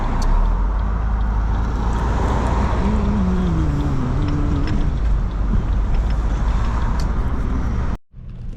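Road traffic rolls around a car driving in Millington, Tennessee, a steady loud rush of tires and engines from inside the cabin, with a passing engine tone rising and falling midway and a brief cut near the end.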